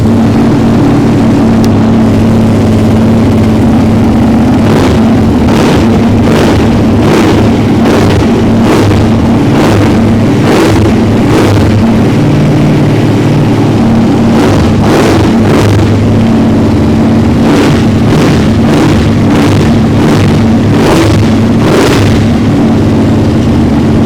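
A superbike engine idles with a steady rumble, broken by a series of sharp, loud rev bursts at roughly regular intervals, close by and without speech.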